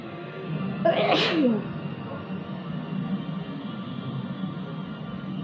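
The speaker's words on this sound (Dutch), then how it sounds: "Sorry hoor dat ik telkens moet niezen." A single loud, close sneeze bursts out about a second in, followed by quiet room background.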